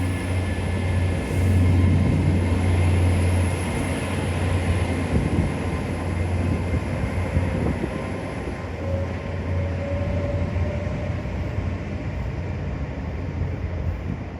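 A train rumbles past nearby on a seaside walk at Teignmouth, with a steady low hum and broad rushing noise that slowly eases over several seconds; no voices.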